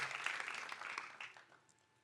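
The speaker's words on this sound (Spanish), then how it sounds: "Creo que eso sí se merece un aplauso." Brief, fairly faint applause from a church youth gathering, a dense patter of many hands clapping that fades out within about two seconds.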